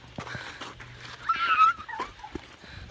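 A dog on a hiking trail whimpers in a short, thin, high whine amid faint outdoor noise and scattered footsteps, close by.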